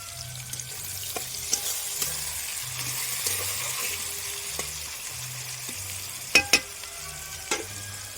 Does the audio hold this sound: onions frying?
yes